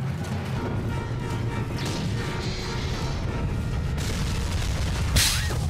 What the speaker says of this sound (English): More explosions. Damn.